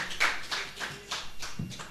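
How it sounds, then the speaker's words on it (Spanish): A church congregation claps for the Lord during a Sunday sermon, a few loose rhythmic hand claps repeating about every half second, close and moderately loud with no talking over them. "Ahora le saqué un aplauso para el Señor."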